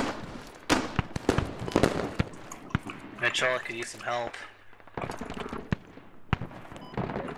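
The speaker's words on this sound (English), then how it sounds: "These airstrikes, this is fucking unreal." Airstrike explosions in Squad at Al Basrah, a rapid series of sharp blasts and cracks, some close and loud, scattered among gunfire while a voice speaks between them.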